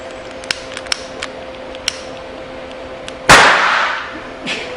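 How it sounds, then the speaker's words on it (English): A few faint clicks and a soft tone give way to a sudden sharp pop as gas-filled soap bubbles explode in a hand, a quick whooshing burst that fades over a second. "I'm going to set off an explosion in my hand that'll demonstrate what this system does."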